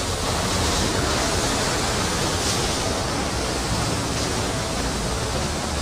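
A big waterfall about 25 kilometers from Munnar in Kerala's hills, heard as a steady, dense, rushing roar of falling water, loud and unbroken, with no voices.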